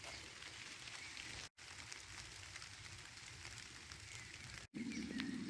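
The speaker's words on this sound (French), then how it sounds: "la pluie commence à s'intensifier" Rain falling over a vegetable garden in early June, a steady, faint hiss of drops on surfaces, broken by two short cuts, with no talk.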